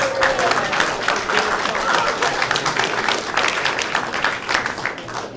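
An audience applauds the winning high school team after a competition round, with steady, dense clapping that holds loud and close for the whole stretch before easing slightly at the end.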